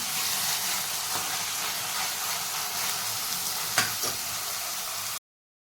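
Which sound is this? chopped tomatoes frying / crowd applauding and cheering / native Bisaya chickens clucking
chopped tomatoes frying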